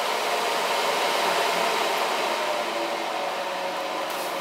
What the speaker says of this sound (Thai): เราจะได้ยินว่าเสียงตัวพัดลมนะคะมันทำงานอ่อนลงอย่างเห็นได้ชัดเลยนะครับ